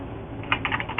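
Quick bursts of keystrokes on a computer keyboard, a few close clicks clustered in the second half after a brief quiet start.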